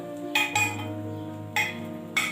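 Turmeric powder and spices stirred into hot oil in a pan for a mixed vegetable pickle, with a spoon scraping and clinking against the metal four times over a steady low hum.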